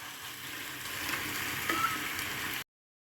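Thalipith flatbread sizzles on a hot pan greased with oil or ghee, a soft, steady frying crackle that lasts about two and a half seconds and then stops abruptly.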